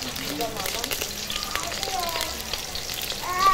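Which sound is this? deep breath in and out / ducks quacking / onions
onions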